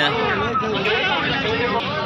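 Goats bleat repeatedly at a busy livestock market selling pregnant and full-size goats, their wavering calls loud and close over a steady murmur of crowd chatter.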